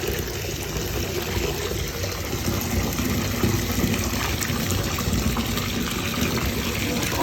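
Warm water runs steadily into a tub being filled to about 15 gallons for scouring fine wool fleece, a loud, continuous gushing fill with no breaks.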